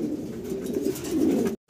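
Pigeons coo in a low, continuous warble close by, with a brief gap near the end.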